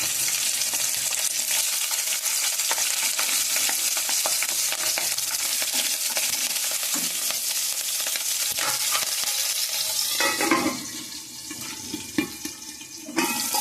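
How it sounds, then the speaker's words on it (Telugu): Garlic, urad dal, chana dal, mustard seeds and cumin fry in hot oil in a pan, a dense continuous sizzle close up, with stirring scrapes and clatter toward the end. "మనకి నూనె వేసేసుకుని కొద్దిగా ఎల్లుల్లిపాయలు వేగినాయి కదా, ఈసారి మినపప్పు శనగపప్పు ఆవాలు జీలకర్ర కూడా వేసేసుకుందాం."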